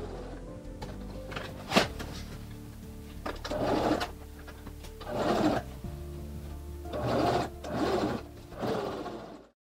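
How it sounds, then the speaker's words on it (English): Sewing machine stitching piping into the armholes of a costume bodice, several short whirring runs of rapid stitching separated by pauses and handling clicks, close but moderately quiet, with no talk. "Then I sewed my new piping into the armholes."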